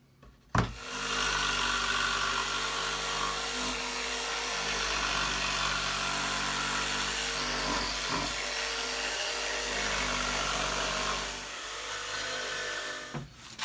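A power saw makes relief cuts in wood for a bird feeder. It starts abruptly, then runs as a loud, steady buzzing whine for about thirteen seconds, with brief dips in pitch, before it cuts off.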